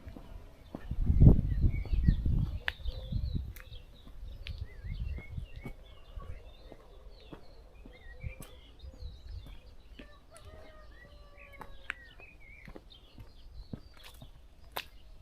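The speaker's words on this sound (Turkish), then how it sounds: "Kuş sesleri ne güzel değil mi?" Scattered bird calls and chirps from several birds in the distance over quiet outdoor ambience in a garden with olive and walnut trees, with a burst of rustling noise near the start.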